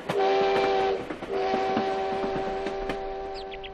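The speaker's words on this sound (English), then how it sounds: "Leland Stanford's special train, pulled by a locomotive named Jupiter, advanced down the Central Pacific line." A steam locomotive on the Central Pacific railroad line in 1869 sounds a loud, sustained whistle in two long blasts with a short break between them, over a low rumble of the moving train.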